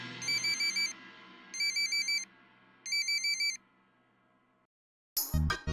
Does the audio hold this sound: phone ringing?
yes